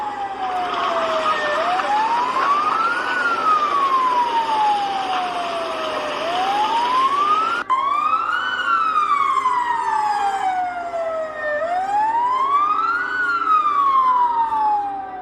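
Fire engine sirens wail continuously during a fire in Ashdod, loud and near, with rising and falling sweeps; partway through a second siren layers in, giving a denser, overlapping wail.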